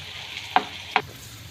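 Gond, an edible gum, frying in desi ghee, a soft continuous sizzle with two sharp crackling pops about half a second apart.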